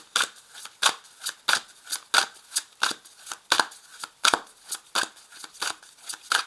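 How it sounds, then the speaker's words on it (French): Tarot cards shuffled by hand, a steady run of crisp rhythmic riffling slaps, close and distinct, repeating roughly every half second with no talking. "je tire une carte"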